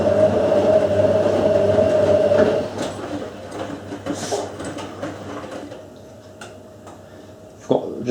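A Miele W562 washing machine running its hydromatic wash, with a steady mechanical drone and hum from the drum that drops to a quieter level after a few seconds, then a single brief knock near the end.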